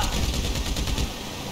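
Rapid automatic gunfire in GTA 5 rattles in a quick, even stream of close, loud shots for about a second before trailing off.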